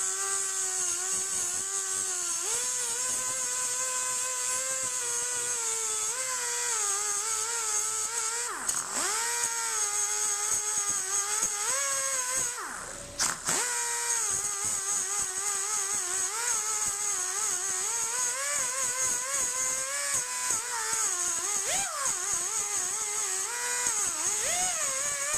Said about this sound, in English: All we're going to do here is just now grind the stud off. I'm just going to use a cutoff wheel.